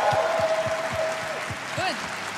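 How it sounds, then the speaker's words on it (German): An esports crowd at a DreamHack event cheers and applauds team Pride with a brief clatter of clapping, a rhythmic thumping underneath and a voice talking over it. "Ja, Applaus für Pride!"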